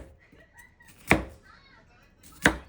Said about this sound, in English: Slice the onion.